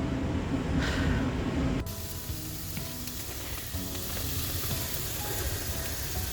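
Veggie burgers and cauliflower fry in a pan, giving a steady, close crackling sizzle that runs the whole time, louder and hissier in the first couple of seconds before settling into a softer, even frying hiss.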